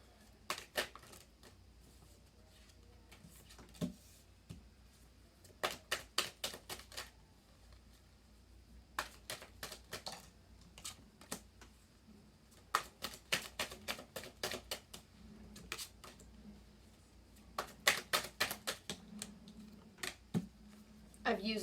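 Well-worn tarot cards being shuffled, rapid bursts of crisp riffling clicks repeating in clusters over a quiet room, close and moderate, with occasional faint talk.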